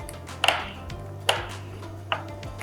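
A knife chopping almonds on a board, heard as three crisp, separate cuts about a second apart, close and alone in a quiet room.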